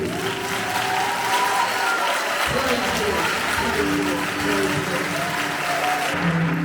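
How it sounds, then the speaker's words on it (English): A crowd of guests claps steadily at an engagement ceremony, a sustained wash of hand applause with a few voices and cheers mixed in. "stand on your feet so that we can give you a big hand of applause"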